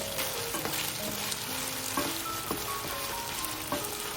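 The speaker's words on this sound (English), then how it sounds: "When the chicken is almost done, pour in the Shaoxing wine and let it sizzle." Steady, close sizzling of chicken stir-frying in a hot pan as Shaoxing wine is poured in, with scraping and stirring clatter from a utensil throughout.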